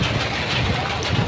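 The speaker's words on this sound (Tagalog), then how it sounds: "lakas talaga ng ulan" Heavy rain pours down steadily at a market in a dense, hissing wash, with gusts of wind mixed in. No voices are heard.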